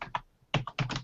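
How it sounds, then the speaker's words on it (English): Typing on a computer keyboard picked up during an online call, a few crisp key clacks in short irregular bursts, close and clear with no talk. "Now I'm hearing a little bit of typing feedback."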